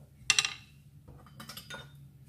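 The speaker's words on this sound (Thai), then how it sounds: "ปรุงเลยเริ่มคนกันเลยนะคะ" Spicy duck larb being stirred and seasoned in a bowl, with a sharp double clink of a spoon against the dish near the start, then softer scraping and tapping of utensils in a quiet kitchen.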